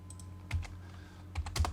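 A few quick keystrokes on a computer keyboard entering an AutoCAD trim command, then a firmer Enter press: soft, close clicks in a short burst over a low background hum.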